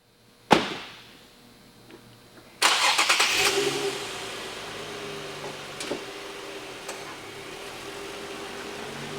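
An Infiniti G35x engine cranks and catches after a sharp knock, then settles into a quiet, steady idle heard from inside the car.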